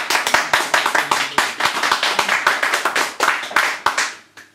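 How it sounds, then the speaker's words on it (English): Audience applause after a closing music set at a live performance, with dense, steady clapping from a crowd that carries on for several seconds before tapering off at the end. "More applause, please."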